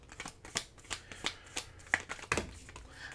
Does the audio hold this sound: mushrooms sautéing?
no